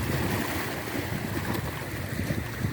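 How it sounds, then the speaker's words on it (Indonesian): Ocean waves at sea washing and churning steadily, a continuous broad rush close by without distinct breaks, no voices. "ombak semakin tenang ya, ombak semakin tenang"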